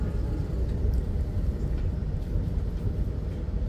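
The Senja Utama Solo passenger train passes at Cirebon station, a steady, loud low rumble of wheels and carriages that fills the whole stretch without pause.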